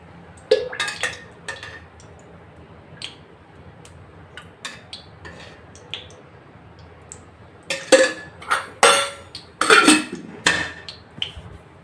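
A kadai is set down on a stovetop with a few metallic clinks and knocks, followed by a burst of louder clattering and scraping as oil is added, with quieter gaps in between.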